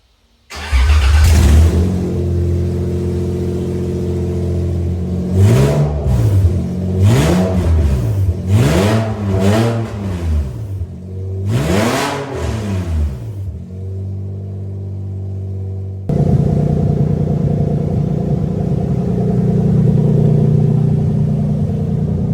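A Lexus GS300 fitted with a manual ZF swap and no exhaust starts with a bang and revs hard four times, each loud raw rise and fall close by, then settles into a rough, rumbling idle.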